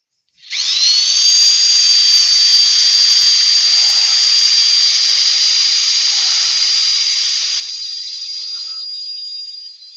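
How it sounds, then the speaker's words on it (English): A high-pitched angled power drill whines steadily for several seconds up close on horse chestnut wood, then its tone drops slightly before stopping. "I'm going to use my angled drill on this"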